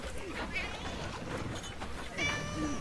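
Cat meows in a Black Sails TV episode, a few thin mewing calls at moderate distance mixed into busy dialogue and background sound, with people talking throughout.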